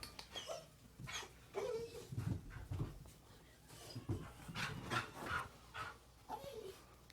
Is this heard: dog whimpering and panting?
yes